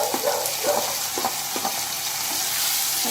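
Onions and curry leaves sauté in a pan, giving a steady bright sizzle with soft intermittent stirring scrapes, close and fairly loud, and no voices.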